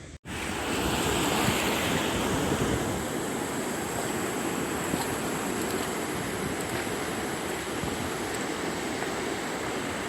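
Ocean waves wash onto the shore in a loud, continuous roar of surf, with gusts of wind buffeting the microphone throughout.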